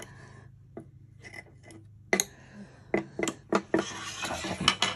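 Scissors trim fabric held in an embroidery hoop with quiet, close-up snips and small scraping clicks in irregular bursts, growing busier toward the end.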